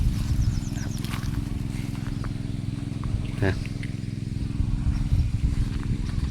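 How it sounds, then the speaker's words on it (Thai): A steady, low engine drone from a water pump running out in the rural countryside of Isan, Thailand, holds an even rhythm throughout with a few faint chirps and rustles on top. "ตอนนี้กำลังสูบน้ำสูบสาอยู่"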